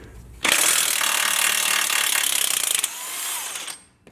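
Ratchet loosening bolts on a Jeep JLU during a track bar and sector shaft brace install: a loud, close, continuous rapid clicking that runs for about three seconds, then slows briefly and stops, with no talking.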